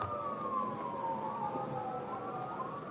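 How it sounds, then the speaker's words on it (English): Emergency vehicle sirens wailing outside, two overlapping tones rising and falling at moderate distance over a low background hum. "I don't know if you guys can hear the loud sirens."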